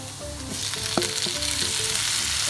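Onions and garlic browning in a hot pan produce a loud, even sizzle with a few clinks and scrapes of stirring, continuous and close, with no one speaking.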